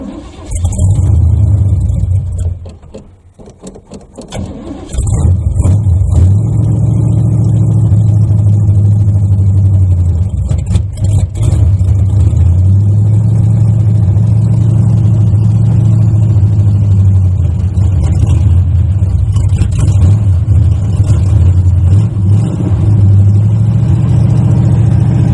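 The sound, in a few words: cold start of a 1980 Chevy Malibu Landau engine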